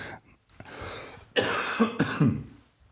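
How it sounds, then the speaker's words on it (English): A few harsh, close coughs come in quick succession, the last one rougher and throatier, with short quiet gaps between. "We've been dealing with this cough for this whole time,"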